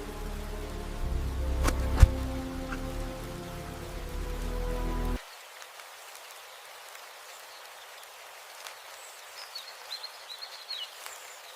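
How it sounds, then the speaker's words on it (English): Rain falling on a pine forest floor, a steady soft patter of drops on needles with faint bird calls; a low rumbling layer cuts out partway through, leaving only the gentle rain. "Rain darkens the pine needles, and the forest floor begins to hold every scent."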